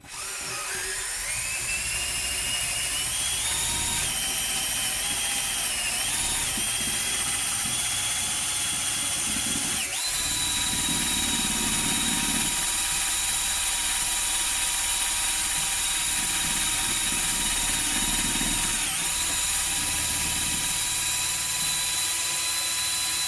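Cordless drill spinning a scrub brush against a Russell Hobbs pot with washing liquid, a loud continuous high motor whine with rising and falling pitch and a gritty scrubbing texture underneath, running nonstop and close.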